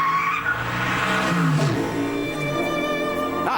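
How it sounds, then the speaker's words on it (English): Tyres squeal loudly as the Stig brakes hard into a corner on a damp, drying Top Gear test track, a sustained shrill screech over engine noise, close and continuous. "lots of tyre squeal"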